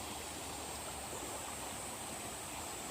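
A campsite stream flows steadily and gently, a soft, even wash of running water close by with no voices over it.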